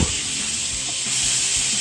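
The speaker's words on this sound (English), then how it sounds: "those steaks have been frying for 5 minutes now on one side" Steaks fry in a pan after being flipped, giving a steady, close, loud hiss and sizzle that holds without a break, with faint clatter underneath.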